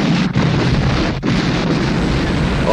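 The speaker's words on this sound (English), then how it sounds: "he flies away from the explosion" A massive, roaring explosion from the 1983 film Octopussy rumbles continuously, loud and dense, with no voices over it.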